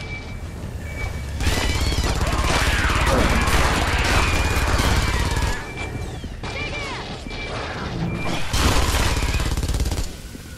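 Dense bursts of rapid automatic gunfire from a machine gun in the video game Aliens vs Predator (2010), with crashes and chaotic effects, loud and continuous for most of the stretch, with brief lulls.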